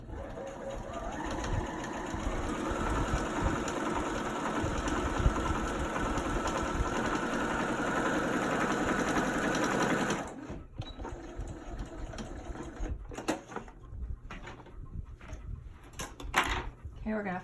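Sewing machine running a quarter inch seam on a fabric mask, a steady fast mechanical whir for about ten seconds before stopping, followed by softer handling clicks and rustles while someone talks.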